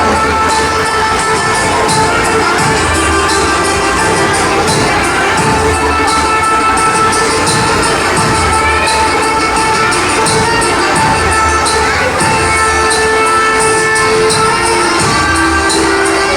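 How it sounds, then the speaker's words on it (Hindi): Audience applause at a Mother's Day event, loud sustained clapping from a crowd filling the whole stretch with a few cheers. "Big round of applause for Bharti Shakya."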